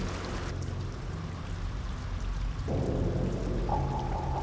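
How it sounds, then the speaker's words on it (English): Rain soaking the weathered concrete skeleton of an abandoned office tower, a steady dense hiss of falling water that grows slightly heavier partway through. "The concrete skeleton of this office tower once protected from the elements, is now getting soaked by rain."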